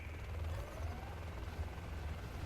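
Attacking helicopters in the Zero Hour strategy game drone steadily with a low, continuous rotor thrum, moderately loud and unbroken throughout, with no voices.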